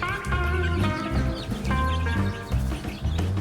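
Chicks and chickens on a farm cluck and peep continuously in an overlapping flock chorus, close by and fairly loud.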